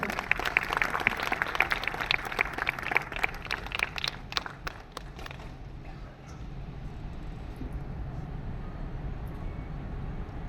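Audience applause at a journalists' convention in Ahmedabad, a dense burst of clapping in a large hall that fades after about five seconds into a steady low crowd murmur.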